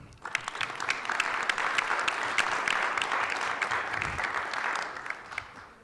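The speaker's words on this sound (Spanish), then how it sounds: "también me gustaría pedir un aplauso para ella" Sustained applause from an assembly audience at a weekly school gathering, honoring licenciada Montserrat Mondaca; dense steady clapping throughout, fairly loud and continuous, with faint crowd murmur and no speech.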